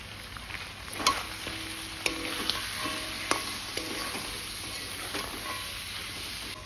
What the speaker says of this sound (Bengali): হলুদ গুঁড়ো দিয়ে এখন আর একটু ভাজা ভাজা করে নেব।